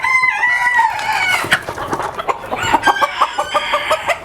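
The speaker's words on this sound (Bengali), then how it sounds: "এটা খুবই সুন্দর মুরগি।" Fancy-breed chickens on a poultry farm cluck loudly up close while a rooster crows near the start, followed by a run of choppy, repeated clucks.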